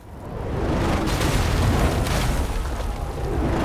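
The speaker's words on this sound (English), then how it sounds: "Catapult fire." A catapult's fiery shot explodes on a medieval battlefield in For Honor, a loud, broad roaring boom that swells quickly and rumbles on heavily for several seconds, with no talking over it.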